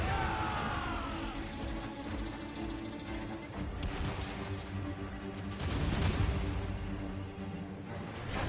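Ship cannons firing in Assassin's Creed Rogue: a rolling volley of heavy booms amid crashing impacts and sea battle noise, moderately distant and muffled, with scattered bursts building toward a louder cluster near the end.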